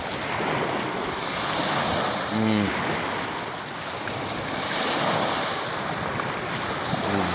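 Sea surf washing onto a shore, a steady broadband roar mixed with gusty wind buffeting the microphone, continuous for several seconds with no talking.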